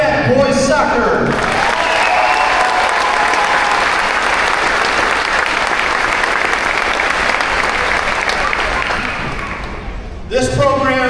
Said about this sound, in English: A big round of applause for Wildcat Boys Soccer.